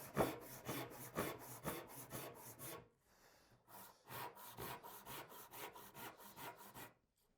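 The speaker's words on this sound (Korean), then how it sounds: "이번에는 왼쪽 톱날이 먹금선을 스치게 톱질을 하겠습니다" A hand saw cuts wood along a marked line for a mitred joinery joint, sounding as a close, steady run of rasping back-and-forth strokes, with a brief pause partway through before the rhythmic sawing resumes.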